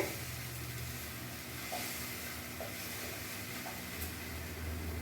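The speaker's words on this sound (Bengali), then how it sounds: "এখন আমি ভালো করে মশলাটা কষিয়ে নেব, যাতে কাঁচা গন্ধটা আমার না থাকে।" Spice paste sautés in oil in a pan with a soft, steady sizzle and occasional light stirring scrapes, quiet and continuous throughout.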